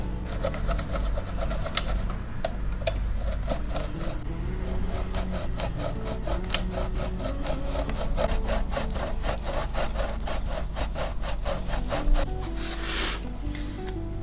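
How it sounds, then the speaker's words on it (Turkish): Steady rhythmic scraping of sheep's milk cheese against a grater, fast repeated strokes close by, continuing without pause and with no talking. "Şimdi bu peyniri rendeleyeceğim."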